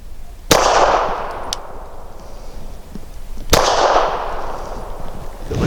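Two sharp pistol shots from a Canik TP9 Elite SC firing 165-grain subsonic rounds, about three seconds apart, each a loud crack followed by a ringing outdoor echo.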